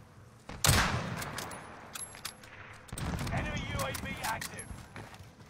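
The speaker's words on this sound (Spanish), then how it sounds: "Ahora le fallé los dos tiros" Gunfire in a battle royale video game: a sharp, loud shot bursts out early, then a second stretch of shooting follows, with voices talking over the action.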